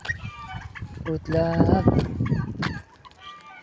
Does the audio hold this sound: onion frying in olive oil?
no